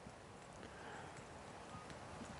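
A horse's hooves strike a thinner, less sandy arena surface in a steady rhythmic clip-clop, close and continuous throughout with soft background noise.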